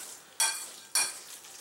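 Spoon mixing a black pepper sauce for steamed portobello with meat, heard as two sharp scraping strokes against a bowl with a quiet pause between them.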